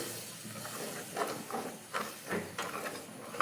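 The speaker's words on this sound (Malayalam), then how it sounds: "അപ്പോൾ നമ്മുടെ മസാല നല്ല വൃത്തി തിളക്കാൻ തുടങ്ങിയിട്ടുണ്ട്." Masala gravy bubbles in a pan with soft, irregular hissing and popping bursts, faint and close.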